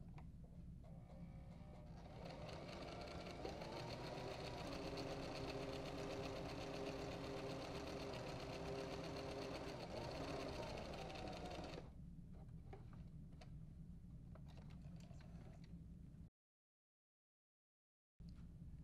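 A sewing machine runs a steady zigzag stitch along an infinity scarf seam, its motor humming and needle chattering fast and continuously for about twelve seconds, then a lighter stretch of machine noise before stopping.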